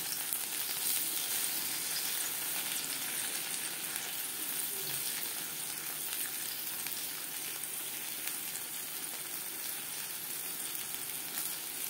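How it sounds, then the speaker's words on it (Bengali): Slices of eggplant shallow-frying in oil in a pan for begun bhaja, with a soft, steady sizzle that keeps on evenly throughout, fairly faint and with no one speaking over it. "একটা সাইড ভাজা হয়ে গেলে অপর সাইডটা উল্টে দেব"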